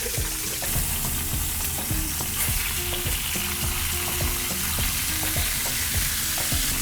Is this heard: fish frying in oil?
yes